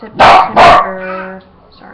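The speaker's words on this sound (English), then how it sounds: "that's my dog" A dog barks twice in quick succession, loud and close, followed by a brief whine; a person speaks faintly afterward.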